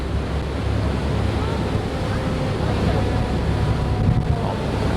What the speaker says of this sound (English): Oh, probably just getting nothing but wind.